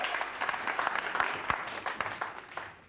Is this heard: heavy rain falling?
no